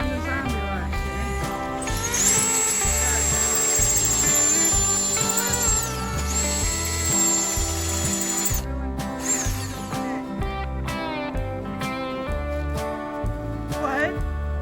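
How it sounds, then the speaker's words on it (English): A power drill bores bolt holes while a zombie lock is fitted to a solar dual-arm Ghost Controls gate, whining steadily under nearby talk, stopping, and restarting in short bursts. "You drilled an oval hole."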